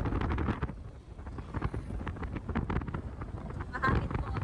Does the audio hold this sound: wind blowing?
yes